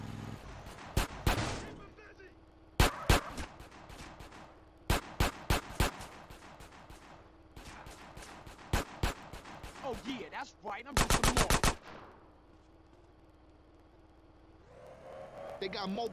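Gunfire in GTA San Andreas Definitive Edition during a raid on the army docks, from a weapon heavier than a 9mm pistol: repeated loud bursts of shots, including a rapid volley, over a steady low game background.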